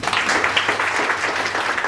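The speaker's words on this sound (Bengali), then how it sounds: "সেটার জন্যই একটা জোরে করতালি" Audience applause for a student performance at MC Kejriwal Vidyapeeth, a steady wash of many hands clapping together at close range, sustained without a break for a couple of seconds.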